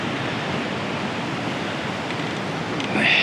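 Steady broad wash of ocean surf along a coastal road in Japan, continuous and fairly loud, with a slight swell at the end and no clear voices.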